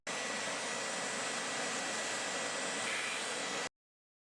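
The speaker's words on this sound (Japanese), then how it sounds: "掃除機で吸い取ります。" A vacuum cleaner sucks soot from a kerosene glass-working burner, a steady loud broadband whoosh running unbroken for several seconds and then cutting off abruptly into silence.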